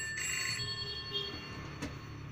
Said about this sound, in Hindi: अचानक टेलीफोन की घंटी बजने लगी।